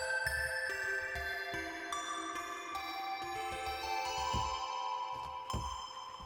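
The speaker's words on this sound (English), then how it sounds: "I call it Waterfall Pluck. It's a really nice ambient Pluck sound." A shimmering synth pluck repeats in a steady pattern, bright notes with long airy reverb tails over soft low pulses, no voices.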